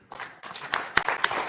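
An audience at the Ghana-UK Investment Summit in London breaks into applause, a brief burst of many hands clapping that swells quickly, fairly loud and close with no voices over it.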